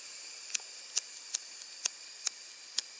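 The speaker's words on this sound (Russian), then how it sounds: "Блин, зажигалка перестала работать, представьте. Ух ты, какой звук." A broken lighter gives off a steady high gas hiss, broken by six evenly spaced sharp ticks like a striking flint, close and fairly quiet.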